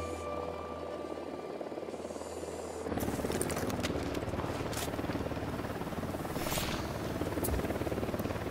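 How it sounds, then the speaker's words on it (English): A helicopter approaches in the Ghost Recon Wildlands video game, its steady rotor drone suddenly swelling louder and continuing as a dense, constant thrum with a few sharp transients over it. "Helicopter incoming."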